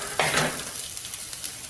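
Stuffed bitter gourd fries in a pan and is turned, one short scraping stir over a soft continuous sizzle.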